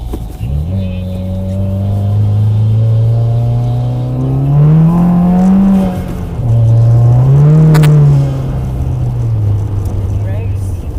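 A car on an ice racing track drives with its engine revving close by, the pitch climbing and falling in long sweeps as the throttle comes on and eases off.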